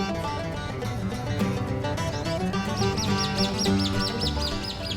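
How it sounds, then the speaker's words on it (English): Birds chirp and tweet all around in the trees and gardens of Al Noor Island, a dense, steady chorus of overlapping calls with repeated bright notes growing clearer toward the end, no talking. "you can hear birds chirping from all over"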